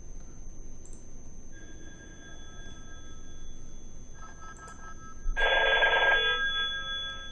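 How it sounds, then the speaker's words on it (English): A Cisco IP phone sounds an emergency text alert, a steady electronic tone joined by a brighter, louder ringing burst near the end, with no talking. "the text alert is pushed to all the IP phones"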